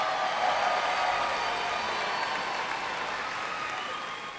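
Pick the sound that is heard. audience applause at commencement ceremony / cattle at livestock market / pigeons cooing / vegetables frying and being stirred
audience applause at commencement ceremony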